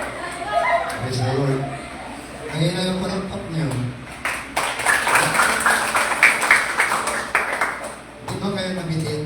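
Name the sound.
church congregation applauding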